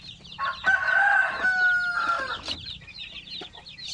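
A native rooster crows loudly nearby while native hens cluck around it in short, uneven bursts.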